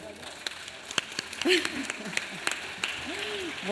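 Audience at a literary festival event in Gijón clapping, scattered and uneven claps close by, with voices talking through them.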